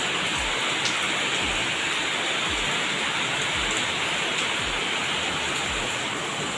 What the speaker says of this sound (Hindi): बहुत ज़्यादा बारिश होते संगवारी हो।